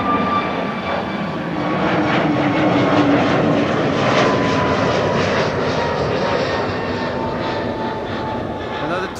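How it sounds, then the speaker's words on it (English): A Transavia Airbus A321neo passes close by at Amsterdam Schiphol, its jet engines giving a loud, sustained roar that swells and slowly eases, with a voice talking over it. "Another Transavia A321neo."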